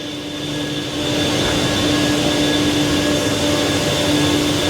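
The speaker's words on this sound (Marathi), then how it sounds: "हा तीन नंबर पंप चालू आहे" Pump number three runs in the jackwell pump room of the Nivali Bavnadi dam, a steady loud mechanical drone with a constant hum and whine that swells slightly after the first second and holds evenly throughout, with no talking.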